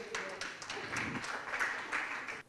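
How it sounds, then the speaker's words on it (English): A short round of applause from a small audience at a seniors' online security talk, moderately faint scattered clapping that stops abruptly at the end. "So we deserve a round of applause."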